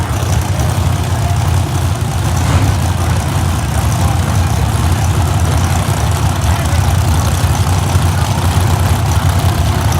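Drag racing cars, a supercharged Cobra and a nitro funny car at a drag strip, rumble steadily with loud, low engine idling throughout, a continuous heavy drone with no clear revs or launch.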